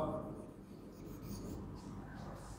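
A teacher writing on a board during an English-medium Class 8 science lesson, heard as a faint continuous scratching and rubbing against a low room hum, with no clear talking.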